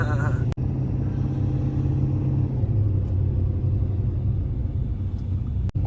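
A car rolling through traffic on a highway near Nashville produces a constant low engine and road rumble from inside the cabin, with a couple of sharp clicks but no speech.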